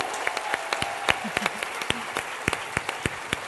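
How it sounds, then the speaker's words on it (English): An audience applauds at a fitness talk, a dense round of clapping with sharp individual claps. A few brief vocal whoops rise above it. "Give him a round of applause for that"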